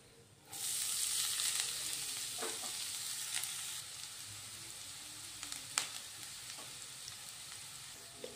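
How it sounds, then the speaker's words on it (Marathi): Grated carrot sautéing in ghee over medium heat for gajar halva, a steady close sizzle that jumps up suddenly as the carrot hits the pan, with occasional scraping and stirring clicks. "आता आपण हे गाजर जे आहे एक 5 ते 6 मिनिटं ह्या तुपामध्ये मध्यम आचेवर परतवून घेऊया ह्या पद्धतीने।"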